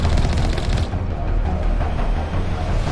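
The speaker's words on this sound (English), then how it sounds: "I'm enjoying that cannon. Next time I get to ride gunner." A vehicle-mounted cannon in the Mass Effect video game fires rapidly and loudly, a dense continuous barrage of shots.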